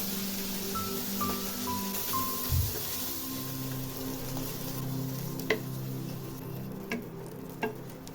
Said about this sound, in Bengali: কড়াইয়ে সরিষার তেল গরম করে মাছ দিয়ে দেবো